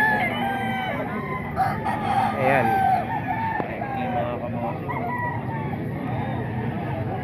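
Roosters crow and chickens cluck at a busy poultry sale, several loud overlapping calls rising over a murmur of crowd and nearby talk.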